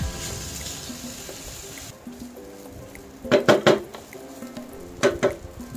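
A metal spatula scrapes and clanks against a pan while fried rice with soy sauce and mixed vegetables is stirred, soft sizzling first, then two bursts of sharp, rhythmic clatters up close.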